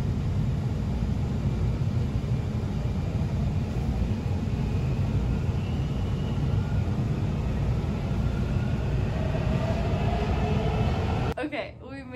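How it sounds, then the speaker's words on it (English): A metro train arriving in a subway station rumbles loudly and steadily on the tracks nearby, a continuous roar with faint squeals, ending abruptly; muffled voices are mixed in. "We're riding the metro. We have never done public transportation beyond a bus. Ours is coming in 1 minute."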